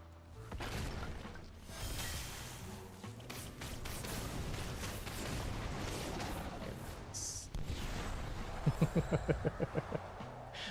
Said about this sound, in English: Running into my own explosion.